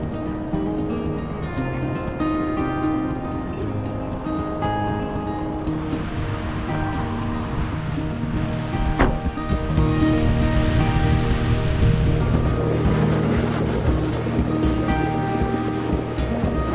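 Continuous roar of waves rolling in on Lake Michigan, with wind buffeting the microphone throughout and the surf swelling louder in the second half.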